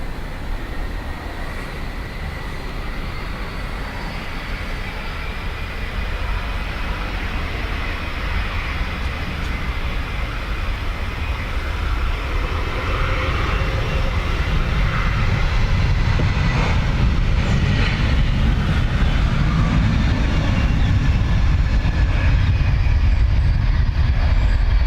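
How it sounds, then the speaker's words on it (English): A Ryanair jet begins its takeoff roll at Dublin Airport on a windy, wet day, engines building from a steady broadband roar into a louder, deepening rumble that swells over the whole stretch. "We should have time for the Ryanair. About to roll."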